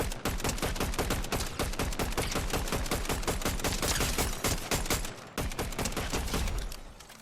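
Rapid gunfire in the video game Fortnite, a dense, loud stream of shots firing almost without pause for several seconds, with one brief gap near the end.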